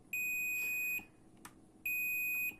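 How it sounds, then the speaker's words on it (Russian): A repaired push-button, restored without being opened, gives two long, steady electronic beeps separated by a short pause, loud and close with faint background hiss. "Вот уже почти каждый раз пищит."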